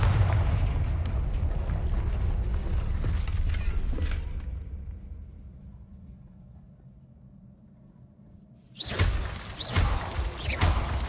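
The Confringo spell explodes in Hogwarts Legacy as a heavy booming blast with shattering debris that rumbles down over several seconds, then a second sharp loud burst erupts near the end, with no talking.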